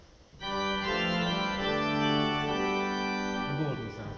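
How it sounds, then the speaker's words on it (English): A pipe organ's Bordun stop played together with the principal chorus rings out as one full, rich held chord with changing inner notes for several seconds, then fades and releases near the end. "And with the principal chorus,"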